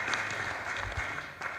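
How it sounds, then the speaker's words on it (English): A crowd at a political rally breaks into applause, a short burst of dense, moderately distant clapping lasting under two seconds. "I think we should give her a clap"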